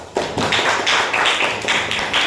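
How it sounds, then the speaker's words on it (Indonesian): A classroom of students claps together in a brisk burst of applause lasting a couple of seconds, close and loud, with no talking over it. "Jika tidak ada, tepuk tangan."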